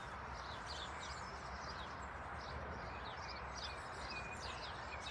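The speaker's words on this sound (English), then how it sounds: "Listening to those birds." Faint birdsong with scattered chirps and trills drifts over a steady, broad outdoor hiss, continuous and fairly distant.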